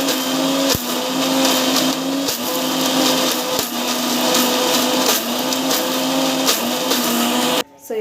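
Ginger and garlic being ground into paste in a kitchen mixer grinder: a loud, continuous whirring roar with a rough grinding edge and a few brief dips, close by, cutting off at the end.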